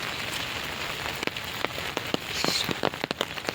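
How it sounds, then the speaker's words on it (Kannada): Heavy rain falls steadily in a village setting, a dense continuous hiss of drops with sharper spattering hits on nearby surfaces, close and fairly loud, no voices. "ಇನ್ನೂ ಹೆವಿ ಮಳೆ ಬರ್ತೈತಿ, ಸಿಕ್ಕಾಪಟ್ಟೆ"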